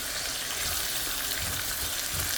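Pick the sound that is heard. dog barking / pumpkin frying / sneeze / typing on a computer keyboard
pumpkin frying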